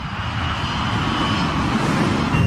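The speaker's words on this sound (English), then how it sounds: "The operation of pulling the plane up in the missed approach was a very violent one." Airliner engines roaring at high power during a steep missed-approach climb, a loud, steady broadband rumble with no break for the full stretch.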